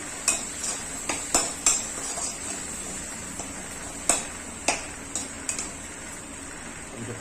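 A spoon stirs turmeric powder into soft cooked tomatoes in a pan, making close, sharp clinks and scrapes in an irregular rhythm against a faint sizzle.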